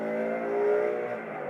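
A BMW M5 CS engine revs up through a gear shift on a freeway, a loud smooth rising mechanical whine with rich harmonics that swells and then eases, heard from inside the car with no talking.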